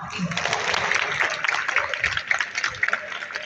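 At the official opening of Pathlight School, an audience claps for a guest of honor, a thick wash of many hands that stays loud and continuous, then thins into scattered claps with voices mixed in.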